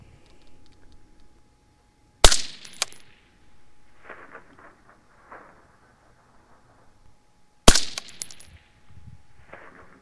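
Two .22 caliber rounds from a PSA AR-15 striking the bottom edge of a steel target plate 800 yards away, each a sharp metallic crack followed by a brief ring, spaced several seconds apart over quiet outdoor background.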